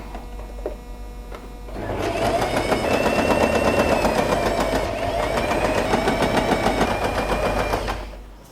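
A sewing machine runs a long basting stitch through fabric for a ruffle hair clip, a steady fast mechanical chatter starting after a quiet moment and running close and loud for about six seconds before stopping.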